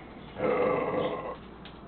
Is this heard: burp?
yes